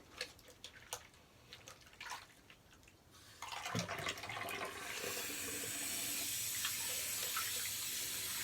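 A bathroom tap runs while someone washes up after a shave: a few faint clicks and drips, then water gushes on and keeps flowing steadily and loudly into the sink.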